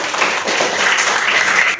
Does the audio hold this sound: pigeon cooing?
no